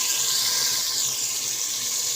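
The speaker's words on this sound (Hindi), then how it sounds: "आप आलू गलाने के लिए हम थोड़ा सा पानी डालेंगे।" Water pours steadily from a tap into a pot of potato curry, a close, loud, continuous hissing rush with no pauses.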